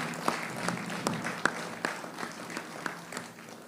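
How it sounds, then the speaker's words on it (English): Scattered, fairly faint handclaps from a small audience at a Democratic Labour Party zone meeting, individual sharp claps standing out against a low murmur. "We must clap for that, for sure."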